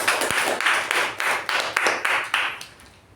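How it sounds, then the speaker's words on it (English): A short burst of clapping from a small group at a Toastmasters meeting, loud and rhythmic at first, then thinning out and fading toward the end. "Please welcome her with a huge round of applause."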